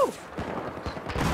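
Rapid M249 machine gun fire in Battlefield 4, a dense stream of sharp close shots rattling through the short burst with no pauses and no talk.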